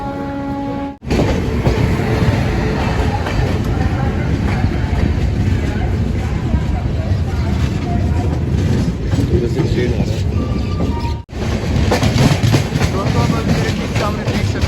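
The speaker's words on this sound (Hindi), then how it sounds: "चलिए आपको दिखाते हैं इस ट्रेन का अराइवल, वो भी प्रयागराज जंक्शन पे" A passenger train arrives at Prayagraj Junction platform with a loud, continuous rumble and rattle of rolling stock. Brief dropouts break the sound, and speech is heard beneath the train noise.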